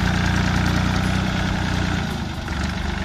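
Diesel engine of a four-wheel tractor fitted with a Sonalika rotavator, idling outdoors, with a steady low throbbing rumble and mechanical clatter heard close up throughout.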